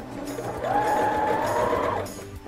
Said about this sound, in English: you're going to sew another line, this time adding the top to the skirt.